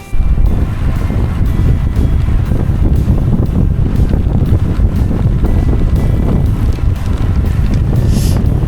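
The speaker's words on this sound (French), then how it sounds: "face au vent avec des bourrasques à plus de 50 km/h" Heavy, roaring wind buffets the microphone continuously while cycling into a headwind with gusts over 50 km/h, a dense low rumble with gusty surges throughout.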